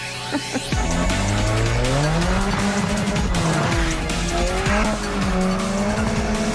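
An Alfa Romeo 4C sports car with electronic driving aids switched off slides sideways, tires squealing loudly and continuously under a high, roaring engine that rises and dips through the slide.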